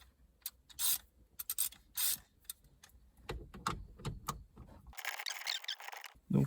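A socket wrench with a 10 mm socket ratchets on the steering column switch of a Peugeot 407. Quiet rasping clicks come in short bursts, close by, ending in a longer stretch of fast ratcheting.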